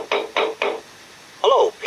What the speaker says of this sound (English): Piglet knocked on Pooh's door.